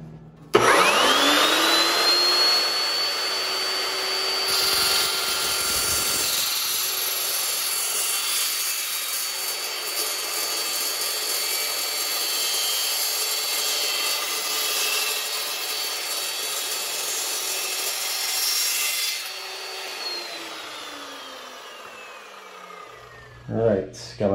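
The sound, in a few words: saw cutting metal tub door track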